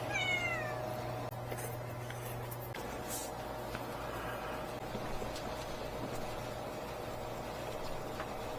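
A pet cat gives a short meow near the start, then the room stays quiet with a low steady hum and occasional faint rustles.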